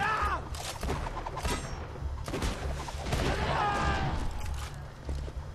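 Heavy weapon fire in the video game Borderlands 2, a dense run of booming blasts and crackling shots that keeps up without a break, loud and close, with a faint voice now and then behind it.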